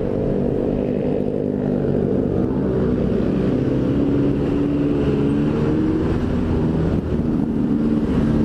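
A Toyota Starlet car drives past on a market road, its engine a steady, loud, close rumble mixed with other traffic noise throughout, with no one talking.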